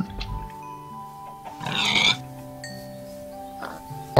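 Pigs on a farm give low grunts amid steady background hum, with a brief louder, rougher burst in the middle and a few short snorts scattered around it, heard fairly close and without talk.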